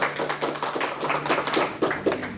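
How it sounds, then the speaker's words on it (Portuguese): A church congregation applauds in a steady, dense wash of clapping, with slight rhythmic pulses and no talking. "Salva de palmas para Jesus."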